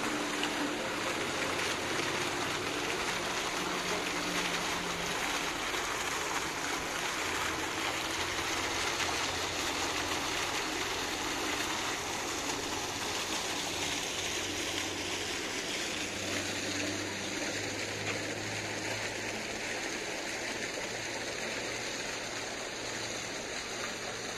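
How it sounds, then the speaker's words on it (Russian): Fountains splash continuously beside the Okean cinema in Vladivostok, a steady broadband wash of falling water with faint city hum beneath, moderately loud and unbroken throughout. "фонтаны около кинотеатра «Океан»"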